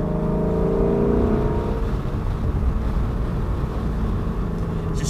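A Ford Mustang engine revving while driving on a straight, flat road, a loud, close drone that rises in pitch early on, then settles into a rumbling cruise with road noise.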